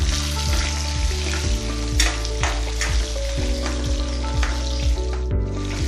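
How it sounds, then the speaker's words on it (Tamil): Small shallots sizzle loudly in an oil-filled pan alongside roasted chana and urad dal for mint chutney, with a steady frying crackle and repeated scraping strokes of a spatula stirring them up close. "ஒரு கைப்பிடி அளவுக்கு சின்ன வெங்காயம் சேர்த்து வதக்கிக்கலாம்."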